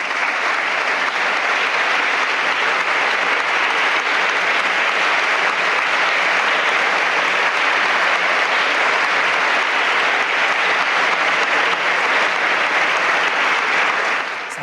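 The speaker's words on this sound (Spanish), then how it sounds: "Aplauso cerrado, el homenaje del Congreso de los Diputados" Sustained applause fills the Spanish Congress of Deputies, a dense, steady wash of clapping from a large chamber that holds at full strength for about fifteen seconds, with no speech over it.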